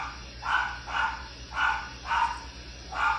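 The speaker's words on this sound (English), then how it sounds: "And they probably barking at a tree." Dogs bark outdoors, five evenly spaced barks at moderate distance, each a short bright burst over a steady low background hum.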